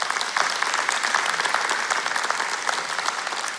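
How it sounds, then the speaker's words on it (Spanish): A church congregation claps in a loud, dense round of applause that fills the room evenly for the whole stretch. "un aplauso para el doctor Harms"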